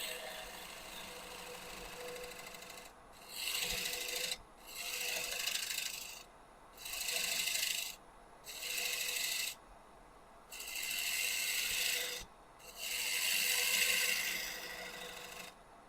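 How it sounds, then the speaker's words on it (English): A bowl gouge cuts an out-of-round maple bowl blank spinning on a wood lathe, giving six separate bursts of loud, hissing scraping and rasping, each lasting about one to two seconds with short quiet pauses between, and no talking. "just using the bowl gouge, just the wing of the bowl gouge"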